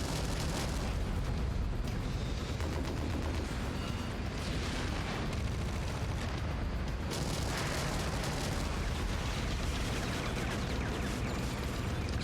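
Heavy explosions and booming missile impacts from a MechWarrior 5 mech battle, forming a dense, continuous rumble with repeated blasts over about twelve seconds and no talking.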